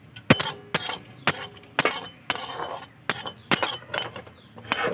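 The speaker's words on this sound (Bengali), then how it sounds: "আমি শুকনো খোলায় কেশরি মেথিটা একটু নেড়ে নেব।" Dry fenugreek seeds stirred in a dry pan, producing a series of about ten sharp scraping clinks in an irregular rhythm, close and fairly quiet, with no talking.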